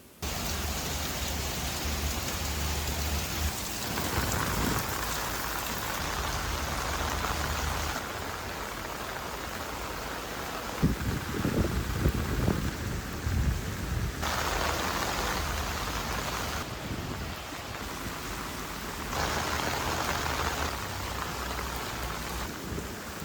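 Steady rain pours onto an REI Arete ASL 2 tent during a prolonged rain test, a dense continuous patter with louder bursts and a heavier drumming stretch midway, with no voices.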